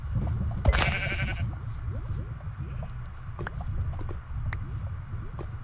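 A Minecraft sheep gives a short, bright bleat over steady in-game background sounds and clopping footsteps, with a few faint clicks following.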